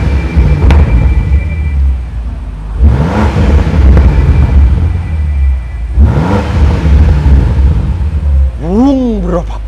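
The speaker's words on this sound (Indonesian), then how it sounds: "ketika masuk ke dynamic mode, langsung deruman knalpotnya lebih besar." A Land Rover Defender Octa in dynamic mode revs its engine through a deep exhaust, three loud, close rising surges with a rumbling idle between them.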